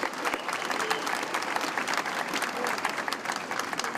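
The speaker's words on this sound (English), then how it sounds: "How about we give the National Guard a nice round of applause?" A crowd at a July 4th celebration applauds the National Guard, a dense, continuous wash of clapping that holds steady throughout.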